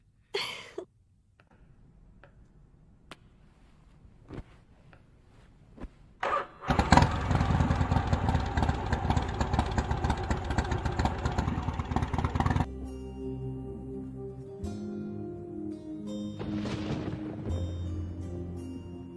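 A motorcycle engine cranks and catches with a loud roar, then runs steadily before settling into a lower idle. Short knocks and handling noises come before it starts.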